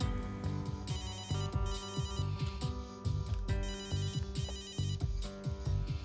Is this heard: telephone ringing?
yes